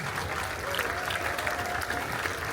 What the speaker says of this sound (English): Give one round of applause, please.